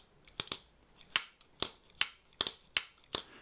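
A Benchmade Crooked River pocketknife with an axis lock gives crisp, sharp clacks as the blade closes, about eight close snaps in quick succession, some in pairs, against near silence.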